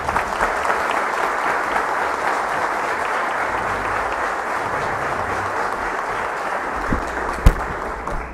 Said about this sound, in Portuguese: vamos receber agora com uma calorosa salva de palmas o ex-ministro Ciro Gomes